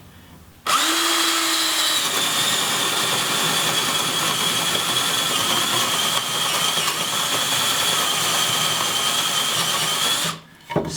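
A power drill whirs continuously at high speed for about ten seconds, loud and close, drilling a hole in a block, starting and stopping abruptly.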